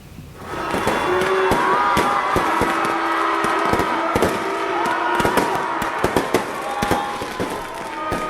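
New Year's fireworks over the Asia Afrika area of Bandung in the rain, dense rapid crackling bursts and pops layered over a steady roar, loud and continuous with faint crowd noise beneath.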